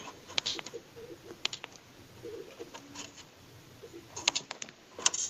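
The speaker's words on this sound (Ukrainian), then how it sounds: "А, у мене голуби, а ось там." Birds flutter and call intermittently in a quiet space, with soft pigeon-like sounds and occasional sharp wing flaps.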